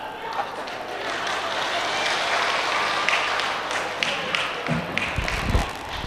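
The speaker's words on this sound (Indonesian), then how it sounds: "Boleh tepuk tangan." Audience applause at an Islamic sermon, a sustained moderate crowd clapping with some thumps and movement toward the end.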